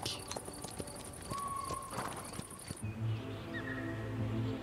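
Pottok pony hooves clip-clopping across mountain ground in the Basque Country, a steady series of close, fairly quiet hoof knocks alongside birdsong and tonal outdoor sounds.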